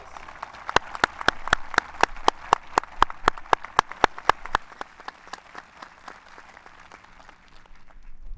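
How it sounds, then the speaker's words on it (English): Sparse applause at a graduation ceremony, a few sharp, evenly spaced claps standing out over softer clapping that gradually thins and fades toward the end. "So let's give them a round of applause."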